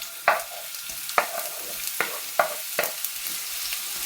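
Sliced onions dropped into hot oil for a tuna roast, stirred in a pan with several sharp scraping stirs over a steady, fairly loud background sizzle.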